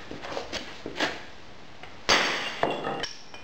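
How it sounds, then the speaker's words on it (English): A hammer strikes a piece of cast iron sewing machine scrap several times, each blow a sharp metallic knock, irregularly spaced, with the later strikes louder; the piece does not bend. "I'll give it a tap with a hammer and we'll see if it bends or if it breaks."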